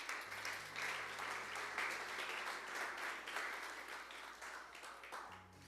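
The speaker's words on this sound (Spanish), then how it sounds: "denle un fuerte aplauso a Dios" Church congregation applauding steadily for several seconds, a dense, fairly distant wash of many hands clapping with a low hum underneath.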